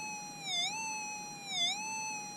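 A Minelab SDC 2300 metal detector sounding on larger bits of gold: a steady high electronic tone that dips and swoops twice in pitch, fairly loud and clean over faint background hiss, with no voices.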